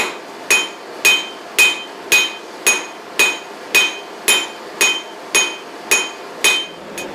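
Steel hammered on the near edge of a VEVOR 66-pound anvil to forge the jaws of blacksmith tongs: a steady run of about thirteen bright, ringing blows, roughly two per second, close and loud with no talking.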